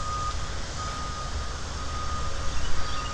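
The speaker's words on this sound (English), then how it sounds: "You might hear some heavy equipment being operated on, or being operated." Heavy road construction equipment works in a park, with a steady reversing beep repeating over a low diesel rumble that swells briefly near the end.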